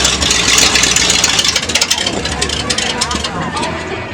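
An old Ford car engine that has just started runs close by, its loud, rough rumble steady for the few seconds while a person talks over it.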